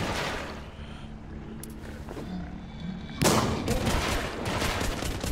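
Gunfire in The Walking Zombie 2, a dense burst of game shots that jumps louder partway through and keeps rattling steadily to the end, with no talking over it.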